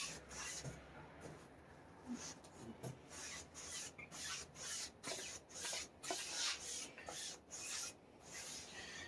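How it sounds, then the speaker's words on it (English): Steady rhythmic rasping strokes, a brush smoothing glue over fabric on a Telecaster guitar body, close and fairly soft. "we'll smooth it out with our other brush"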